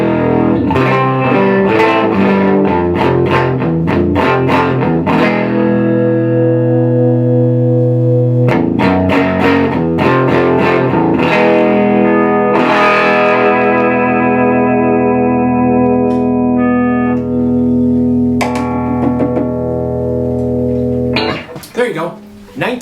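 Gibson ES-330 hollow-body electric guitar with two pickups and a Bigsby tremolo, played through effects with chorus and echo, sounding loud, near and sustained chords and low bass notes ringing out in phrases with short pauses.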